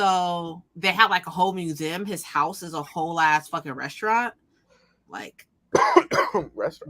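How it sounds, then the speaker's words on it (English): A single short cough bursts out near the end after a brief pause, close and fairly loud, following a stretch of casual conversational talk. "That was more a cough than a sneeze."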